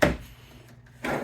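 A drawer in the kitchen of a 2020 Grand Design Solitude 310GK RV slides with a short wooden knock at the start and another at the end, close and moderately loud, with quiet room tone between.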